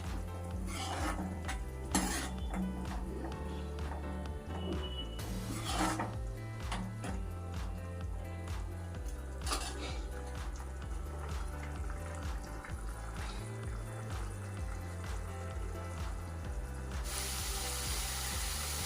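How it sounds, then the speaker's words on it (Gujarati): Masala, onion and tomato being stirred and fried in a pan for paneer bhurji, a steady close sizzle under repeated scraping stirs and occasional clinks of a utensil against the pan. "બધાને બરાબર મિક્સ કરી મસાલા, ડુંગળી, ટામેટા અને મસાલા ચડવા દેવાના"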